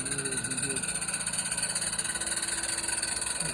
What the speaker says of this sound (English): This is a video Eric sent me last year of this engine running on his layout.